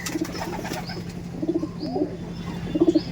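Omani Teddy pigeons coo softly close by in three short, rolling bursts, separated by brief pauses, with faint background hum.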